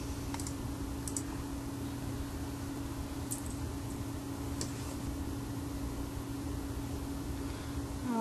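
A few sharp mouse clicks in diagnostic software on a PC, spaced irregularly over a steady electrical hum and faint hiss.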